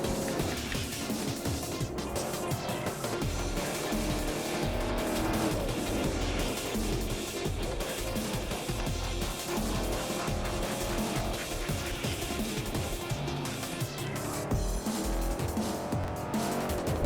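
A car, driven alongside a Chevrolet Chevelle SS, roars steadily while its tires squeal and skid repeatedly. The engine drone and screeching rubber are dense and continuous, close and loud throughout.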